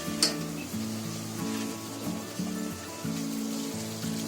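Spices tipped into a gravy frying in a pan, a soft continuous sizzle with light crackling, fairly quiet and steady, with a faint tonal hum running underneath throughout.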